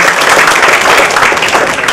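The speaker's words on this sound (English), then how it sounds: "Can we have the last round of applause?" Loud, dense audience applause fills a calligraphy business talk, a steady wash of many hands clapping close by with no pauses, closing out the session.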